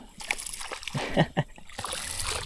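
A smallmouth bass thrashes at the surface of a clear, shallow river, throwing up a few brief, close splashes and sloshes over a faint background of flowing water.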